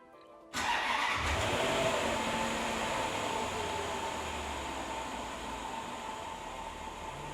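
A Land Rover LR4 engine cranks and fires up after a brief quiet moment, then settles into a steady idle with a whirring fan-like hum that eases slightly over time, without any speech.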